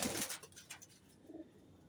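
Pet pigeons, black and red-grizzle birds kept in a loft, give a couple of soft, low coos close by after a brief rustle, with faint background hiss and no voices.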